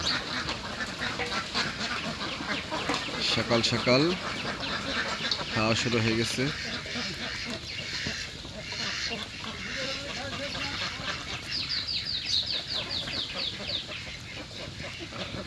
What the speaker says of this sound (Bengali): হাঁসের দল।